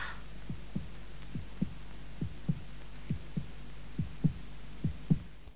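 Heartbeat sound effect from the 1965 horror film Nightmare Castle: a steady run of about a dozen low, muffled double thumps at an even pace, alone with no talk.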